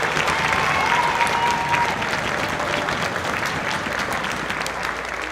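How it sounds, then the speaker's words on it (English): Audience applause at a summer school orchestra concert, a steady wash of clapping from a crowd that holds for several seconds and gently tapers off. "Give them a big round of applause."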